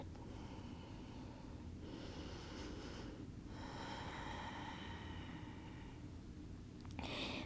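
Slow exhalations through the nose and mouth during a yoga rabbit pose, soft breathy rushes of air rising and fading in several long waves, close to the mic and quiet, with no talking.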